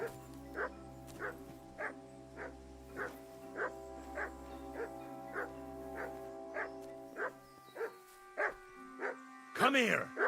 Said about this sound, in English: I hear you barking a lot.